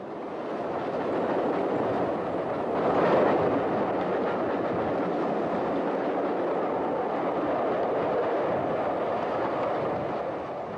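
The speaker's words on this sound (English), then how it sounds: "One of the most celebrated of island trains was the double-headed early morning van train." A double-headed steam train on the Isle of Wight railway, an early morning van train, rumbles steadily at a moderate distance with a broad, continuous roar that swells briefly, and no voices are heard.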